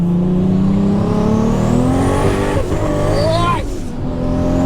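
A 1400HP Toyota Supra accelerates hard in third gear, its engine note climbing steadily in pitch as it pulls loudly and close, then cutting off abruptly near the end.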